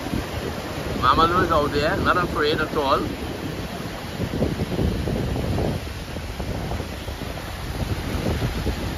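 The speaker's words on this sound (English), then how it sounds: "Lovely waves pushing." Ocean waves at Maracas Bay wash and roar beneath gusty wind buffeting the microphone, while a person talks briefly over the surf.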